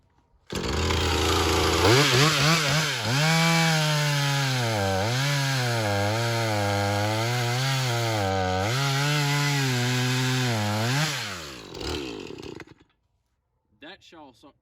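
A chainsaw with a freshly sharpened chain cuts into wood, its engine revving up and holding a loud, bogging drone with repeated pitch dips under load for about ten seconds before dropping to idle and shutting off.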